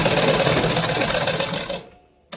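A sewing machine runs a steady burst of rapid stitching along a salwar seam, close and continuous before stopping abruptly near the end.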